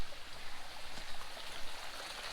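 A small countryside stream flows in a continuous close burbling rush of water, alone and without speech.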